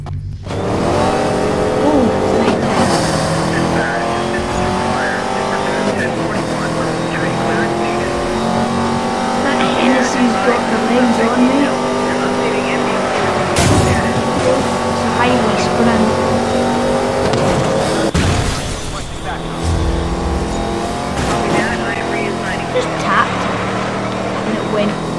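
A Bugatti and a Hennessy race in Need for Speed Most Wanted, their engines droning loudly and steadily with shifting revs, sharp gear changes and bursts of acceleration throughout.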